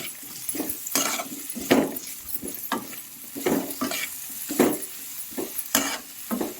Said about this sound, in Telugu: పసుపు వేసుకొని కలబెట్టుకుందాం